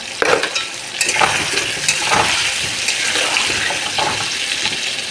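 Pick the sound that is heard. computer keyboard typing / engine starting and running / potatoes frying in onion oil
potatoes frying in onion oil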